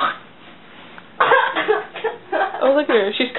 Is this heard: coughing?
yes